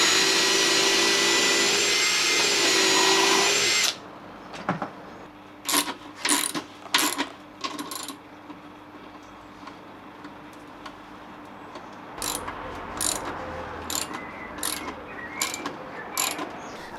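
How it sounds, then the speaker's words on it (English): A power tool whirs loudly for about four seconds while pre-drilling holes in a timber outdoor bench, then a socket drives coach screws in a run of short ratcheting bursts and clicks, close and without talk. "pre-drilled the holes, then fixed it in place with coach screws using a socket"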